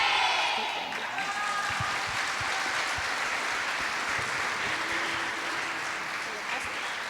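Steady applause from a church congregation at a Father's Day service, honouring children, continuous clapping at moderate level with a voice speaking over it briefly near the start.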